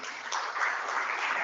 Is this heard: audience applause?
yes